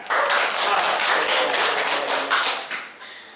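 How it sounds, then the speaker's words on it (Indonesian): A small classroom audience claps for a few seconds, a dense patter of hand claps that thins out and stops at the end, with no talking. "sekali lagi tepuk tangan"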